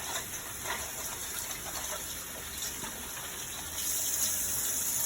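Kitchen tap water running steadily while vegetables for minestrone soup are washed, a continuous soft gushing that grows slightly louder near the end.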